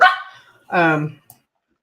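A dog barks close by in two short bursts, with a brief pause between them and a tiny yelp at the end, while people chat on a group call about cruise ships.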